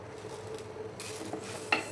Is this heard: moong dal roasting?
yes